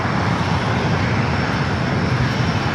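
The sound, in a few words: Air Canada Airbus A220-300 aircraft taxiing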